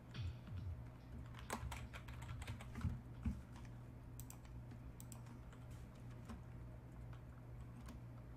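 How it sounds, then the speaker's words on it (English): Quiet typing on a computer keyboard, irregular bursts of light clicking keystrokes with a few heavier taps, faint and close over a steady low background hum, with no voices. "Let me type this out."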